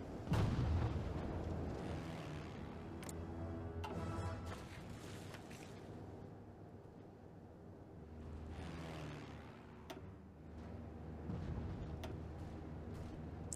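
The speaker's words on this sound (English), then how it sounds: "we are bombing the coastal port here" Bombing of a coastal port in Hearts of Iron 4 sounds as a stream of muffled explosions and artillery-like booms, with scattered louder bursts over a continuous rumbling backdrop.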